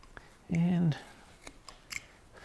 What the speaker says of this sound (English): this wood is really cutting good